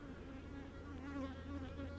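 Honeybees buzz steadily around a nuc box, a close, continuous droning hum that stays even in loudness throughout.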